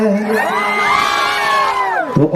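A crowd at a Bihu stage comedy show shouts and cheers together in a long sustained roar of many voices, dropping off abruptly near the end.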